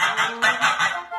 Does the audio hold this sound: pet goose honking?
yes